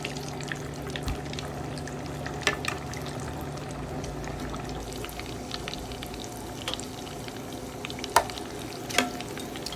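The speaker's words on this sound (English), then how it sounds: "So right now we're frying our chicken pie." Chicken meat pie frying in hot oil gives a steady fine sizzle and crackle with occasional sharper pops, close and alone.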